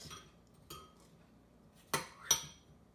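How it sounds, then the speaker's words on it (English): A spoon stirs apple pieces in lemon juice in a bowl, giving a few sharp metallic clinks and scrapes against the dish with quiet pauses between. "Can you stir it so that all of the apples get coated in the lemon juice?"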